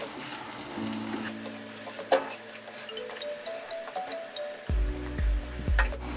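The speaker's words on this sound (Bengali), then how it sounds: "রসুনগুলো একটুখানি ভেজে নিতে হবে।" Garlic cloves frying in a wok alongside onions, a soft continuous sizzle with a few clinks and scrapes of a utensil, fairly quiet and close.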